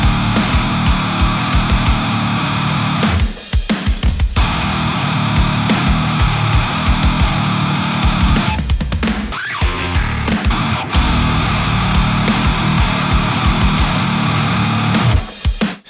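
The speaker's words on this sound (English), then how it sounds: "Let me record the actual riff and I'll show you what I mean." A recorded modern metalcore guitar riff plays loud and dense with heavy, distorted chugging. A few short breaks and stops cut through the riff, and no voices are heard.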